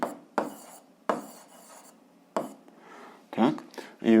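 An algebra exercise is written out by hand. The scratchy strokes come in short repeated bursts with pauses between them, and a voice can be heard briefly near the end.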